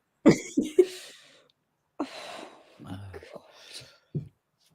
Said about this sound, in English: I'm coughing now.